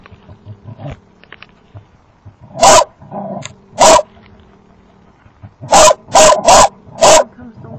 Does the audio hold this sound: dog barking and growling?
yes